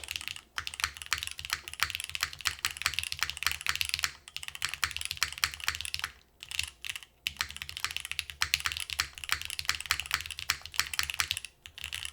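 Typing on a keyboard with a stone case fitted with Cherry switches: a steady run of crisp, close keystrokes with brief pauses, loud and dense throughout with no talk.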